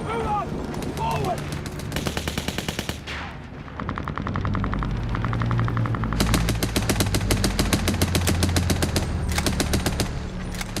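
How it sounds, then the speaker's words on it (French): World War I machine guns fire in rapid bursts, roughly six rounds a second, with sharp rattling volleys that stop and restart over heavy battlefield rumble. "Chaque mitrailleuse tire 6 balles par seconde."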